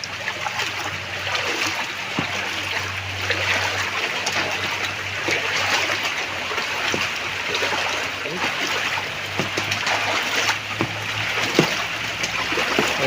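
Floodwater surges after heavy rain, a steady broadband rush of flowing water with a low hum beneath, continuous and fairly loud throughout with no clear voices.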